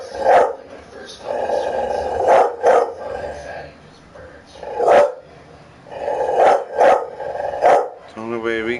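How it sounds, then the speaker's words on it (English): A dog barks in short, loud bursts, several clustered barks spaced across a few seconds with brief pauses between them. "get the dog barking."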